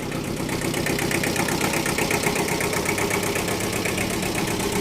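A 15-horsepower two-cylinder Kubota compact tractor engine idles steadily nearby, a continuous loud knocking chug with rapid regular pulses and metallic rattle, no talking.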